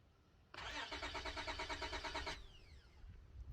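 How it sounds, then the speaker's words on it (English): A car engine in a video game cranks and turns over with a rhythmic, pulsing starter whir for about two seconds, then cuts off, fairly clear and alone. "I'm pretty sure this isn't how you're supposed to start your car."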